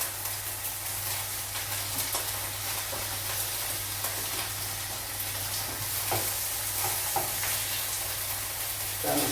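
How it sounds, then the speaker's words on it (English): Spinach fries in a hot pan beside beef steaks for a Valentine's main course, giving a steady close sizzle with occasional stirring scrapes and pops throughout and no talking. "We'll add the spinach to the pan as well."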